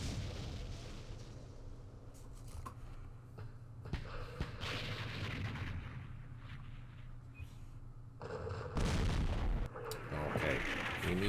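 Artillery in the Campaign Series Vietnam wargame fires in repeated heavy booms and rumbling blasts, several explosive bursts spread across the stretch at moderate loudness, with a bigger crash near the end.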